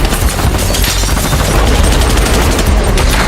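Gunfire in a film shootout crackles in dense, continuous loud bursts, shots overlapping in a chaotic exchange with no voices.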